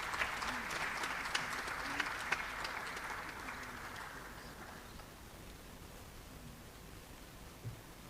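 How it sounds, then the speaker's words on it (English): Audience applause for the Vox Angelica Chorale of Lagos after an oratorio performance. Broad, dense clapping fills the hall and then fades to a faint, hissing wash as it dies away. "a round of applause for the Vox Angelica Chorale"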